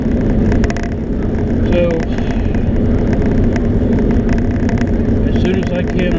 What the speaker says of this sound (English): That's what I'm doing right now, driving to work.